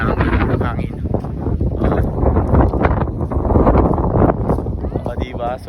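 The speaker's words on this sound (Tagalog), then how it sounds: "Sobrang lakas lang ng hangin." Strong wind at Burgos, Ilocos Norte, buffets the microphone in loud, continuous gusts, with people talking throughout over the rumble.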